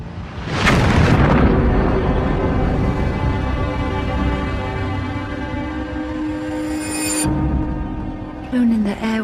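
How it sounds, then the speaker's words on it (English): A large blast destroys Darnley's bedroom lodging, a loud sudden boom followed by a long rumbling roar of debris that sustains for several seconds, then an abrupt cut. "an explosion destroys Darnley's bedroom"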